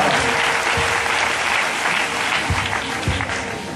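A church congregation applauds and acclaims God, steady clapping and crowd noise filling the space with a few sharper claps standing out.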